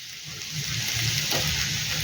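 Eggplant, potato and pumpkin frying in a pan with oil, a steady hissing sizzle that swells after a quiet start and holds continuously, close and moderately loud.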